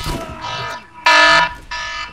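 A timer alarm in the video game Borderlands sounds as loud, buzzing electronic tones in three bursts, the middle one loudest, with faint voices at the start.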